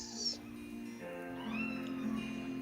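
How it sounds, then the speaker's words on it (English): Cat-like mewing and high squeaky cries from a baby deer creature in a video game, a few short calls rising over a steady low game soundtrack. "A little deer makes little noises like a little cat."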